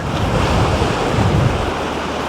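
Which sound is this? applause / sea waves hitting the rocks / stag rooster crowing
sea waves hitting the rocks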